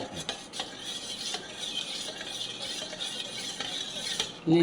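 Steady scraping and swishing of a spoon stirring drumstick and bottle gourd soup in a pot on an unlit stove, with a few light clinks against the metal, close and continuous.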